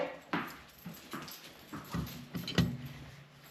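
A dog named Leo whimpers and yips in short, scattered bursts beside an old 1947 Coleman pocket stove, with some clattering handling noise in between.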